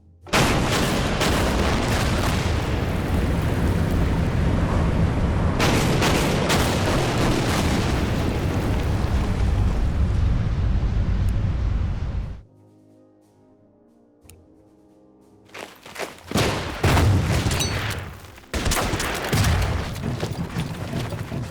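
Naval warship firing torpedoes and guns in a turn-based wargame: repeated heavy booming bursts and rumbling blasts, loud and dense, broken by a quiet gap before more explosive volleys, with no talk.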